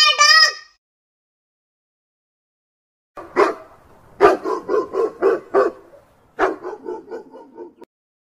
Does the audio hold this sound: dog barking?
yes